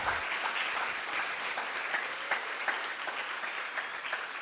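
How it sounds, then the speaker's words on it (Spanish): A church congregation applauds steadily during a Sunday service, a dense wash of clapping that holds throughout with no voices rising above it. "dale un fuerte aplauso a Dios"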